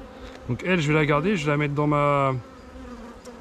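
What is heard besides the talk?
virgin queen honeybee singing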